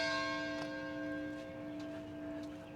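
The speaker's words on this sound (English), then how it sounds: "There goes that bell again." Ringing tone of a church bell in Marion, Illinois hangs in the air, one fresh strike early then a long sustained hum slowly fading, heard at a moderate distance with faint street ambience and no talking.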